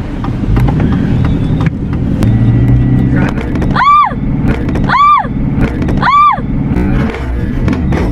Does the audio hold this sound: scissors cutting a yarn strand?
no